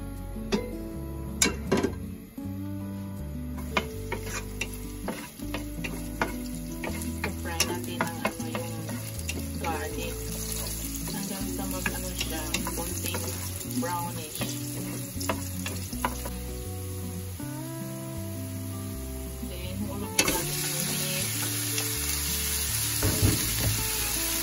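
Minced meat frying in a little oil and being stirred, a steady sizzle with repeated scraping and tapping from the spoon, under a music backing throughout.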